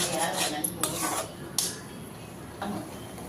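Utensil scraping and clinking against a pot as a thick ground onion, tomato and cumin paste is stirred, with a few sharper metal knocks over a steady low background.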